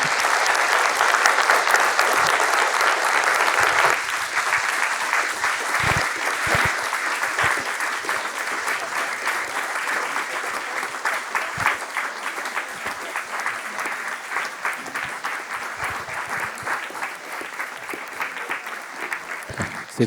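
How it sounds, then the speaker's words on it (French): Sustained audience applause at the close of a talk, a dense steady patter that carries on for about twenty seconds with a few louder claps scattered through. "merci infiniment à Romuald, il mérite des grands applaudissements."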